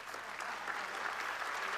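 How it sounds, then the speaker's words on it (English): Sustained clapping from a gathered crowd at the launch of the BSE Sensex mobile streamer, a steady, even wash of many hands that builds slightly and holds. "Can we start the clapping with the countdown?"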